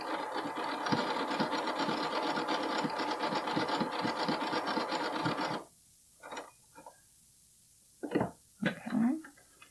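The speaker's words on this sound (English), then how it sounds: "And then I'm going to come down and zigzag over the edge." A sewing machine zigzag-stitches over a fabric edge while sewing a bralette, running as a rapid, steady mechanical chatter for about five seconds before stopping, followed by a few faint handling sounds.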